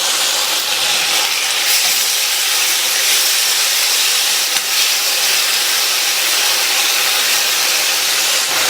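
Chopped tomatoes hit a hot pan with ginger-garlic paste, giving a loud, continuous broadband sizzle and hiss that stays steady for several seconds without speech.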